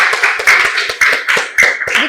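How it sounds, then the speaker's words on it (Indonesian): Classroom students clapping for the best discussion group, a short burst of a few uneven claps and taps over about two seconds, close and fairly loud, with no steady ovation. "Tepuk tangan"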